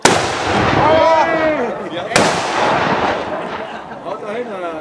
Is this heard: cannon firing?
yes